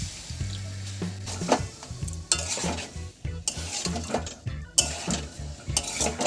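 Potatoes for a vegetarian alur dom stir-fried with spices and Kashmiri chilli powder in a pan, with repeated close scraping and stirring of a utensil over a soft sizzle.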